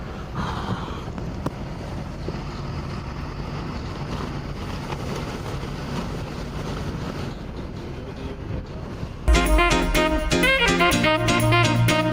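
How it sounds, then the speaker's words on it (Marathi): A boat approaches across the sea in Goa amid water sports, a steady low motor rumble under heavy wind buffeting the microphone, followed near the end by a sudden louder clattering burst. "आता ते समोरून बोट यायला लागली बघ"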